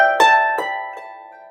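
Harp plucking a few ringing notes with exaggerated phrasing, three soft attacks that fade as long sustained overtones decay, close and clear with no talking.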